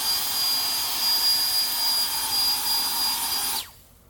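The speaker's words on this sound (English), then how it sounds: "this is the strongest, lightest weight blower I've ever used" A Seese Turbo Jet leaf blower running at full power, a loud, steady high-pitched whooshing roar held close for several seconds before abruptly cutting off.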